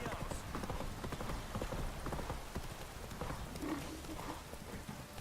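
Roach, a horse in The Witcher 3 video game, trots along with a steady clip-clop of hooves under a soft ambient wash, moderately close and even in rhythm.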